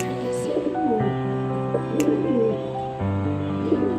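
A dove coos near its chicks in a home setting, soft repeated throaty calls over a steady low hum, with a faint chirp and a voice in the background.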